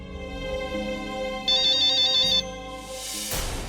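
An electronic phone ringtone plays a bright repeating melody, with a brief shrill burst in the middle, fairly close and clear.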